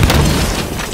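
A grenade explosion in Halo 5, one short deep boom with a rumbling low tail, loud and close, filling the second.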